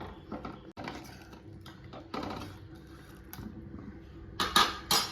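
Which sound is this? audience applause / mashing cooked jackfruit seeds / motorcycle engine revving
mashing cooked jackfruit seeds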